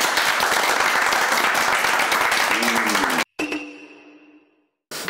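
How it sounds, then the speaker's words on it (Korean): A group of office staff applauds together in a loud, dense burst that cuts off abruptly after about three seconds, followed by a short ringing tone and then silence. "다 같이 박수!"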